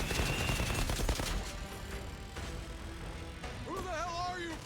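Gunfire in the video game Outriders: dense bursts of rapid shots up close, easing into a steadier loud background of shooting, with a voice talking over it.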